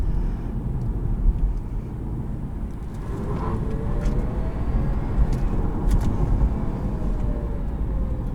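2021 Chevrolet Bolt LT electric car driving, a steady low road and tire rumble with a faint rising electric motor whine, heard from inside the cabin.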